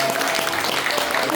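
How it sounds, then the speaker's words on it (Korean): A church congregation applauding during a Friday worship revival service, a steady wash of many hands clapping, fairly loud and even throughout with a faint tone underneath. "격려의 박수 하겠습니다"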